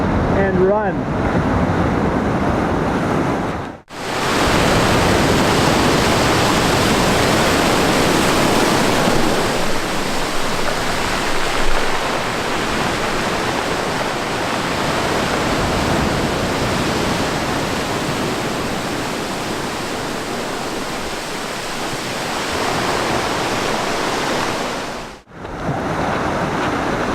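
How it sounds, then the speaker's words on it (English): Ocean surf surging against rock inside a sea cavern with waterfalls on Vancouver Island, a loud, steady roaring wash that fills the space almost without pause, briefly dropping out twice. "the waves will come right up here, right up against all this rock"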